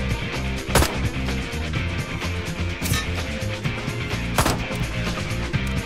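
Video game gunfire in Blight Club: a few sharp, loud gunshots spaced out over several seconds, standing above a steady, rhythmic music track.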